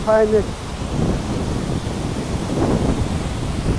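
Rushing water of Rupse waterfall, a steady broad roar of falling water heard continuously, with a brief tonal sound at the start.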